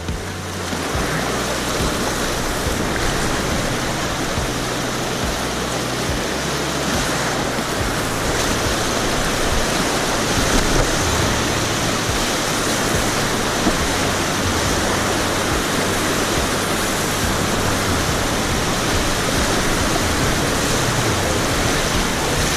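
Whitewater rapids on the Upper McKenzie River in Oregon, heard from an inflatable kayak as a steady, loud, broadband roar of rushing water that holds constant throughout, with a low rumble underneath.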